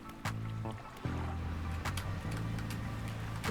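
A fishing boat's newly installed engine in the video game Dredge drones with a steady, low harmonic hum, broken by a few sharp splashes of water near the hull.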